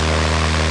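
A DR400 light aircraft's propeller engine in the Aerofly flight simulator drones steadily and loudly up close, a constant buzzing hum with no talking.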